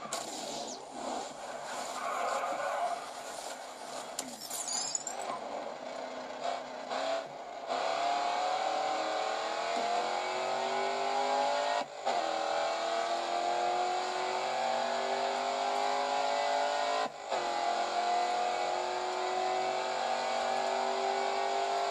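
Race car engine at full throttle in the Grid 2 racing game, a loud, sustained high whine that climbs steadily through gear changes with brief dips between shifts, alone and close.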